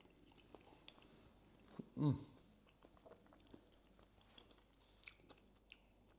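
Someone chews a bite of beef stroganoff with cornichons and creamy sauce. The chewing is soft and close, with wet mouth sounds and one louder squishy bite near the start, over a quiet room.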